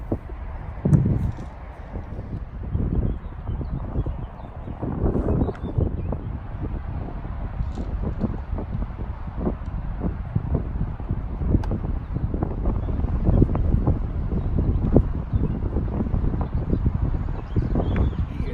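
Wind blows across an outdoor football pitch as steady low buffeting microphone rumble with irregular gusts, alongside faint thuds and movement.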